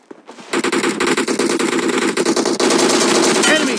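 Rapid automatic gunfire in the BGMI battle royale video game, loud bursts of rattling shots that start after a brief pause and run nearly continuously, with a game voice line briefly heard.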